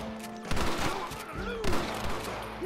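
Gunfire in a Red Dead Redemption shootout with enemies: several sharp shots crack over a dense, busy game soundscape with a voice and tonal music underneath.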